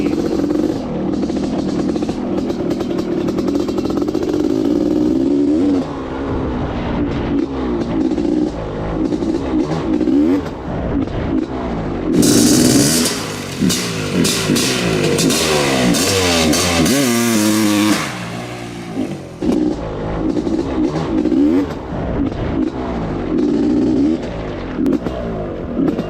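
A Honda CR500 two-stroke motorcycle revs hard and climbs through the gears, its buzzing engine note rising and falling up close, loud and continuous for the whole stretch, with a harsh, brighter surge in the middle.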